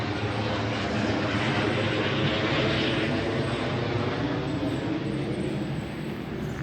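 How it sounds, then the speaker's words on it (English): An aircraft dropping fire retardant over a Canadian marsh roars overhead, a loud, sustained rumbling drone that swells slightly and holds steady throughout, with no talking. "Looks like Donald Trump is dropping fire bombs or something."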